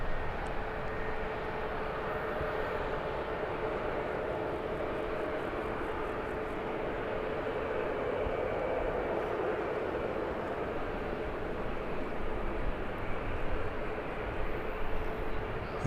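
A TUI airliner taxiing at Birmingham airport on a sunny day, its jet engines giving a steady, continuous broadband roar at moderate distance with no other sounds over it.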